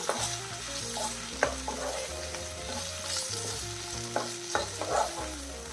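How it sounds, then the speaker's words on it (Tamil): Ridge gourd being stirred and fried in a pan, with a steady sizzle and scraping spatula strokes alongside a few sharper clinks against the pan, close and continuous. "சேர்த்து நல்லா கிளறிடலாம்"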